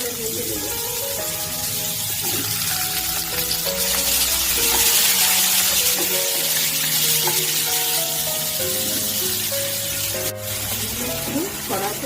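Cut potatoes fry in oil in a kadai with a steady, loud sizzling hiss that runs unbroken throughout, while tonal sounds play faintly in the background.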